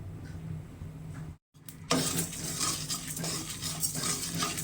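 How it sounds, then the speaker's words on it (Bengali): Coriander seeds, cumin, fennel and dried chillies are dry roasted in a wok, heard as close, continuous rattling and scraping of a spoon stirring the dry spices. A brief silent gap comes first, then the stirring grows louder. "ধনে জিরে মৌরি শুকনো লঙ্কা ভেজে নিচ্ছি"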